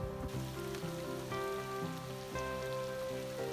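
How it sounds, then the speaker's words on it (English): Steady rain patters on a surface close by in the Temagami wilderness, a continuous hiss with soft drops and a faint tonal hum underneath, no voices. "Well, it's raining."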